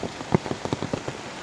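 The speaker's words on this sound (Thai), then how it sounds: "ตอนนี้ฝนตกหนักมากเลยครับผม" Heavy rain falls in a forest, pattering as a dense, steady spatter of drops on leaves and surfaces with a few louder splashes, close by and without any voices.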